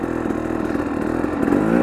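A two-stroke dirt bike engine idles close by while warming up, a steady buzzing putter with a fast, even pulse and no revving.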